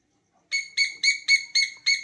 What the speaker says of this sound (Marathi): असणाऱ्या पक्ष्यांचा हा किलबिलाट